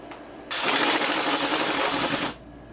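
A ratchet on the motor mount bolts of an 85cc motocross bike during a full rebuild gives one loud, close, continuous whirring rattle that runs for about two seconds, then stops abruptly.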